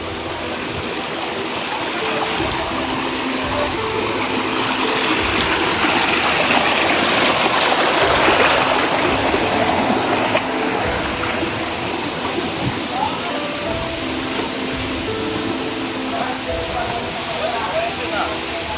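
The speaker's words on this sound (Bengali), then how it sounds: "ঝর্ণার জলটা ঠিক এইভাবেই নিচে নেমে যাচ্ছে, এই সাইড দিয়ে নিচে চলে যাচ্ছে" A waterfall in jungle hills sends water rushing downward in a steady, loud broadband roar that holds constant throughout with no pauses.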